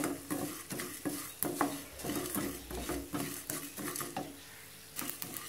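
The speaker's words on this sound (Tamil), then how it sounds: "மூணையும் ஒன்றுவோல வறுத்தோம்னா அரிசி பொரிஞ்சு வரும் பொழுது எல்லாமே ஒன்றுவோல வறுத்து வந்துடும்" Raw rice and spices dry-roast in a pan while a metal spoon scrapes and stirs, giving a soft rhythmic rustle of grains with repeated clinks and scrapes, close and fairly quiet, with no talking.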